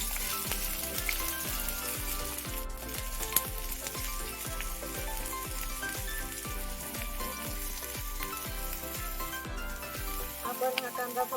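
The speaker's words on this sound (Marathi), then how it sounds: "आता तेल गरम झालेलं आहे, त्याच्यामध्ये आपण हा बारीक चिरलेला कांदा टाकून घेऊ." Finely chopped onion sizzles in hot oil, a steady close hiss with a regular beat of soft thumps underneath that cuts off near the end.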